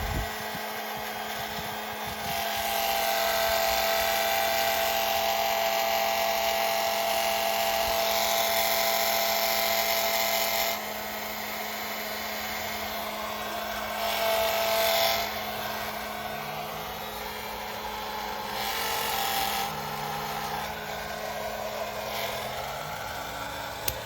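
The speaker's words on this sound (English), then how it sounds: "This hair dryer is really ghetto. It's like about to break or something." A cheap handheld hair dryer that seems close to breaking drones steadily and loudly at close range for the whole stretch, used to heat a tinted rear reflector overlay on an Audi RS3 8Y.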